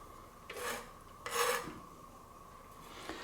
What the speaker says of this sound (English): I'm just cutting off the dry little end that was there